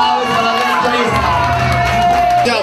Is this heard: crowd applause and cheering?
yes